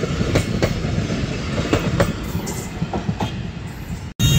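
A long train rolls past a railway crossing, wheels clacking at a rhythmic pace under a steady rumble, loud and near, cutting off abruptly near the end before the noise returns.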